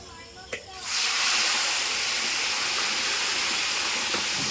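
Chicken dropped into hot oil in a pan at a picnic cookout, following fried potatoes, sets off a sudden loud hissing sizzle that swells within a second and then holds as a steady, dense crackle.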